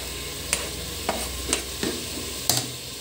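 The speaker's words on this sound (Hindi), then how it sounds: "अब हम टमाटर डाल देते हैं।" Tomatoes and ground masala hitting hot oil in a pan of aloo gosht, giving a steady sizzle broken by several sharp stirring scrapes spaced about half a second apart.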